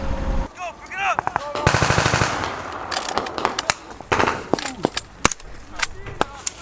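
Machine gun fires repeated rapid bursts, loud and close, at a joint US–South Korean Warrior Shield field exercise, with shouted voices between the volleys.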